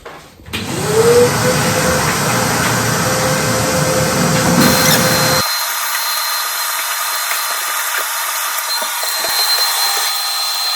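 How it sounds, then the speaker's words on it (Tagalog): A vacuum cleaner used for house cleaning starts up with a rising whine and runs as a loud, steady drone, its pitch shifting about halfway through, with no talking. "Vacuum na lang."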